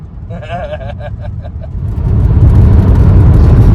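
An old car with 144,041 miles on it drives along, its engine and road rumble growing louder and steadier, with a faint voice early on.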